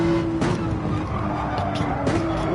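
Racing car in Gran Turismo 7 braking hard with a steady tire squeal over a continuous engine drone, at the Dragon's Trail track with a Porsche, loud and close throughout.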